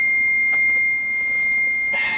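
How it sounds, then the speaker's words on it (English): Door-ajar warning beep inside a Mitsubishi Galant VR4: a steady, thin continuous electronic tone held throughout, near and clear over a quiet cabin, with a brief broader chirp near the end. "Wow, wait, why is it beeping like that?"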